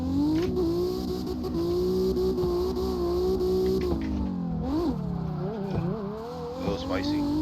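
A drift car running an MT82 manual transmission with 410 gears and about 600 horsepower pulls hard in fourth gear, its engine note loud and steady. The note dips and rises sharply, and a voice talks over it.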